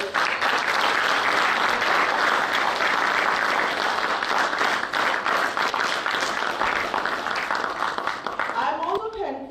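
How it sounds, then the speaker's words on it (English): A large audience at the AGROVON 2k23 event applauds in a loud, sustained round of clapping that runs for several seconds and then fades out. "a big round of applause"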